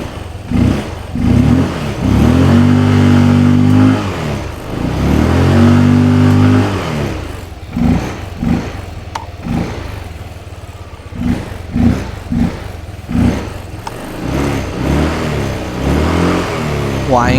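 A modified Yamaha Aerox maxi scooter engine revs hard in repeated fast bursts, loud and close, with rising and falling pitch sweeps between sharper blips toward the end.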